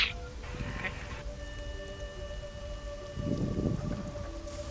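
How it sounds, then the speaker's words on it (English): Steady rain patters continuously at moderate loudness, forming a dense background ambience with a faint tonal hum underneath and no voices. "affected by your terrible rain. Though I love the background noise."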